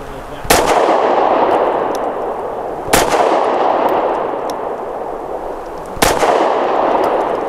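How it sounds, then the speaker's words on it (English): Three loud, sharp shots from a Taurus GX4 pistol with a ported barrel firing steel-cased 115 grain ammunition, spaced a few seconds apart outdoors, each followed by a long echoing tail and no talk. "Actually quite controllable and nice shooting with this ported barrel."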